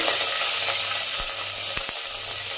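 Mustard seeds crackle and spatter in hot oil for a Konkani GSB Chinese potato curry, a dense continuous sizzle with a few sharper pops, close and fairly loud, no voices.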